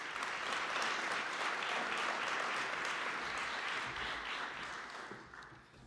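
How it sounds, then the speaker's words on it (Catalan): A full audience gives sustained applause at the E-TECH digital awards ceremony in Catalonia, a thick wash of clapping that stays loud before tapering off near the end. "Un fort aplaudiment."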